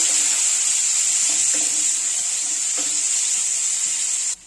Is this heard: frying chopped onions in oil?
yes